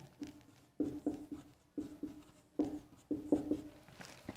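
Marker or chalk writing on a board while working a triangle height-and-distance problem: a run of short scratchy strokes in bursts, close and fairly clear, with no talking.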